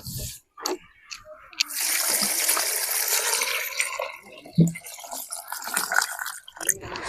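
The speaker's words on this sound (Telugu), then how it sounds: "ఇప్పుడు దీంట్లోకి నీళ్ళు అయితే పోసుకున్నాము" Water is poured into a cooking pot holding green chillies and beans, giving a running, splashing pour with drips and clinks, while a voice talks at moments.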